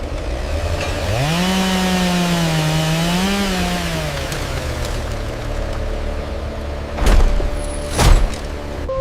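A loud industrial chainsaw engine drones and revs up and down steadily, cutting a giant tree trunk close by, followed by two sharp knocking thuds.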